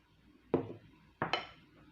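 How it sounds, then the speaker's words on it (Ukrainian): Two quick metallic clinks of a utensil against a bowl while balsamic vinegar, olive oil, pepper and salt are stirred into a salad dressing, close and fairly loud, with near silence between. "Ми це все розмішуємо."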